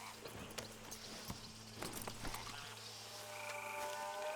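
Horse hooves clip-clop in Red Dead Redemption 2 amid dense game ambience, with a low steady hum and croaking frogs, the rhythmic steps running throughout at moderate distance.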